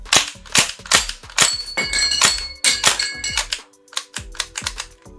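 Rapid sharp snapping shots from an airsoft gun, fired in quick irregular bursts with mechanical clicks, close and loud, no voices.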